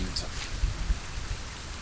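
Rain in the Solarpunk game, a soft steady patter with a couple of low thumps, faint and continuous.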